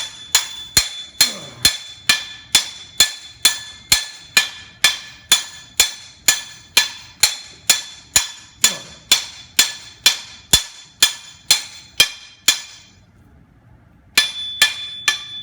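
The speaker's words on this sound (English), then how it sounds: "I am beating on it with a hammer" A hammer strikes metal in a steady, ringing rhythm, about two dozen sharp blows, pausing briefly near the end before resuming.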